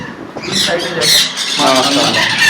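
Young parakeet chicks at a bird seller's squawk in a few loud, harsh bursts close by, the calls overlapping in quick succession.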